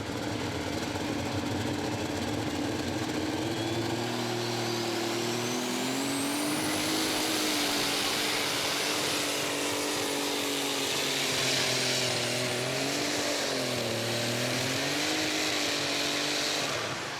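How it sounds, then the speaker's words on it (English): An unlimited super stock pulling tractor engine roars loud and steady at a pull, its pitch sagging and wavering as the RPMs come down late in the run, heard from a distance across the track. "you could actually hear the RPMs come down in the engine"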